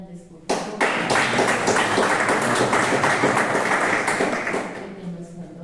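Applause for new members at a gathering, starting abruptly and sustaining as a dense, close burst of many people clapping before tapering slightly near the end.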